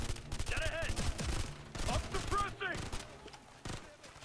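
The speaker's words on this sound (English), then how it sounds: "I'm just gonna start shooting people, I don't care." Rapid bursts of gunfire from the Ghost Recon: Future Soldier video game, several quick volleys in the first three seconds that fade toward the end, with a voice talking over the shots.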